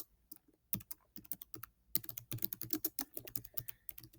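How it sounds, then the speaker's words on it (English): Rapid typing on a computer keyboard into a Google Doc, with irregular bursts of clicking keystrokes close up, a short pause near the start, then continuous clatter. "you're going to type in all of the words"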